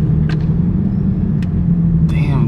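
A Toyota Supra creeps through a traffic jam on the Las Vegas Strip, its steady low engine rumble and road noise filling the cabin, with a few faint short clicks and a brief higher whine near the end.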